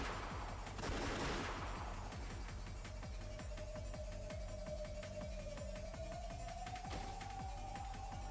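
Gunfire sound effects from the visual novel Umineko: Episode 7: a dense, loud volley of shots bursts near the start, then steady rapid fire rattles on under a sustained musical tone.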